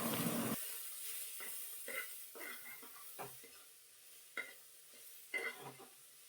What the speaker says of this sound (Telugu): అడుగు అంటుకోకుండా ఒకసారి మిక్స్ చేసుకోవాలి.